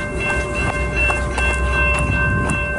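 A CN mixed freight train rumbles past nearby, wheels clacking rhythmically over the rails with a steady low drone and squealing metal tones.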